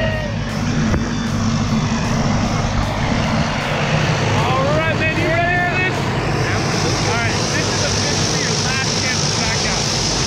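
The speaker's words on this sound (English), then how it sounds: "our plane's firing up" A skydiving plane's engine fires up and runs steadily and loudly for the whole stretch, with excited people talking and whooping over the constant drone.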